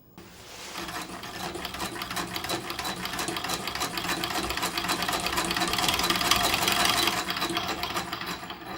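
An old sewing machine stitches in a steady, rapid mechanical clatter, building gradually and running continuously at moderate volume.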